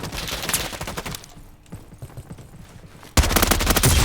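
Rapid gunfire from a Roblox shooting game rattles in dense bursts, easing briefly mid-way before a loud, sustained volley erupts near the end.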